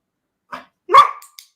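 A puppy gives two short close barks, a soft yip followed by a louder bark that trails off, then a tiny squeak.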